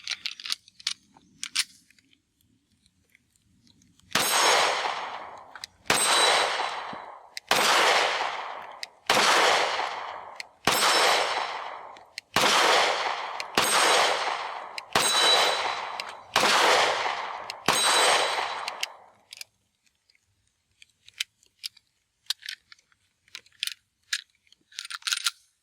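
Taurus G3C 9mm pistol shots ring out at an outdoor range: about ten loud, sharp reports spaced roughly a second and a half apart, each with a short decaying echo, set between quieter clicks and handling noises.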